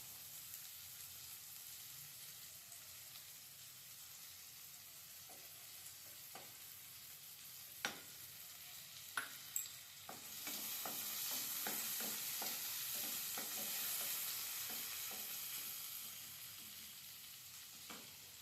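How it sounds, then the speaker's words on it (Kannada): Onion frying in oil for egg bhurji, a faint steady sizzle with sparse taps and scrapes of a spatula, swelling slightly louder midway as fresh oil hits the pan. "ಚೆನ್ನಾಗಿ ಫ್ರೈ ಆಗಲಿ ಆನಿಯನ್ನು"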